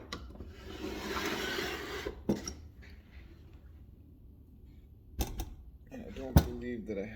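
A metal bench vise being shifted across a workbench gives a scraping, rubbing rasp for about two seconds, followed by a few brief knocks and clunks. Someone speaks quietly between the sounds.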